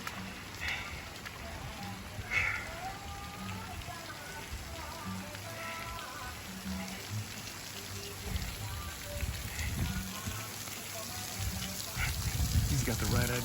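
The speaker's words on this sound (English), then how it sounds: "Now it's not such a torrential downpour." Heavy rainy-season rain in Chiang Mai, Thailand, hissing steadily and close on surfaces and running water, a continuous wash with occasional heavier bursts and faint voices mixed in.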